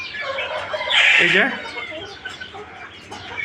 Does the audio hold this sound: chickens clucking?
yes